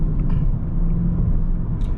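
A car drives across the Brooklyn Bridge at night, its steady low engine and road rumble filling the cabin continuously, with a few faint higher ticks and whooshes above the drone and no talking.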